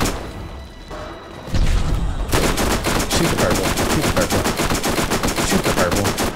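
Rapid automatic gunfire in Borderlands, loud and close. The clip opens on a quieter stretch, then a dense, continuous run of rattling shots holds steadily until the end.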